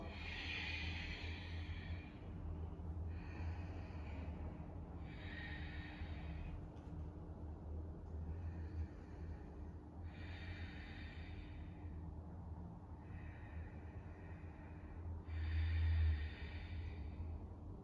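Slow, quiet breathing during yoga poses, several long airy inhales and exhales in a steady rhythm, close and soft, with a slightly louder breath near the end.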